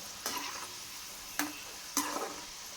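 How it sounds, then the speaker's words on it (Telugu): Dried bean pakoda fry gently in oil on a low flame, a faint sizzle broken by three short scraping stirs, close and quiet, with no one talking. "అవి మరి కలుపుతూ సిమ్ములో పెట్టి ఫ్రై చేయాలండి."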